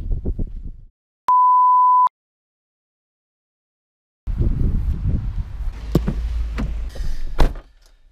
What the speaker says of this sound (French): voiture qui bip de partout commence sérieusement à me gonfler